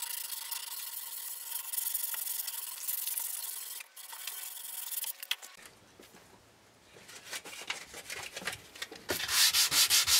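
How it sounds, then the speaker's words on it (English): A reclaimed wood frame for a serving tray is sanded by hand with sandpaper, giving close, steady rasping strokes that pause briefly before becoming louder and more rapid toward the end. "I'll take this opportunity to give the frame a sanding"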